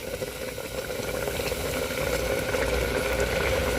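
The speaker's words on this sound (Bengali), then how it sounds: "ভাত আর মুসুর ডাল সেদ্ধ করে নিচ্ছে" Rice and red lentils boiling together in a pot, a steady bubbling, rumbling boil that grows slightly louder, close by, with no voices.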